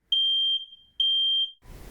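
A battery-powered home smoke alarm shrills in two loud, piercing beeps, each about half a second long, close and alone before a noisy shuffle.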